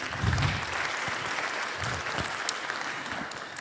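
Applause for Yves, host of a round-table at an accounting conference, a steady crowd clapping throughout with a brief low voice near the start.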